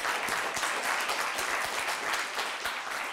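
A crowd claps steadily throughout a comedy interview, with brisk, even applause filling the room and no voices on top.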